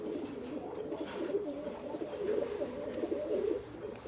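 A Shah pigeon coos repeatedly nearby, low throaty warbling calls rolling on continuously without talk.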